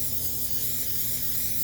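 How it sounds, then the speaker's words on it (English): Non-stick cooking spray hisses from an aerosol can onto a clean kitchen counter before kneading bread dough, one continuous close, loud burst without pauses or talk. "I'm going to take some non-stick spray, spray it on a cleaned counter."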